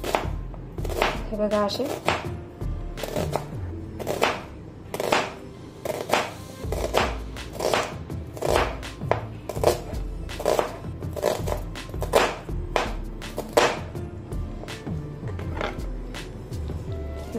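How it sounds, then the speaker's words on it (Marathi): An onion is sliced thin with a knife on a board for onion bhaji, crisp regular chopping strokes landing close and loud in a quick rhythm, with a few words spoken partway through. "आपण आता कांदा चिरून घेणार आहोत। बारीक काप करायचे याचे पातळ पातळ।"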